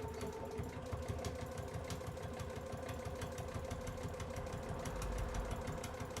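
Sewing machine stitching a bag gusset, running in a continuous steady mechanical whir with a fast rhythmic needle chatter, close and even throughout without pauses.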